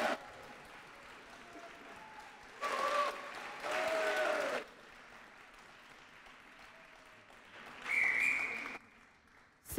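Short bursts of audience clapping greet a pianist accompanying a singer at a French song contest final for blind and visually impaired artists. Two separate rounds of applause rise and fade against a quiet room.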